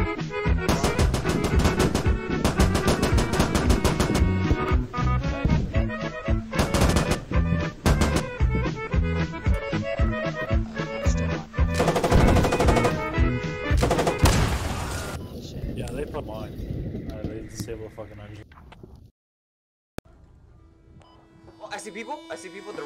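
Gunfire in the combat video game Squad, with dense, rapid volleys of shots and bursts crackling loudly for most of the stretch before tapering to quieter, scattered sounds, while voices chatter over it.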